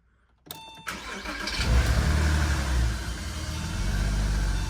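A Porsche Boxster 986/987 engine cranks with a brief whir after a click, catches, and settles into a loud, steady idle close by.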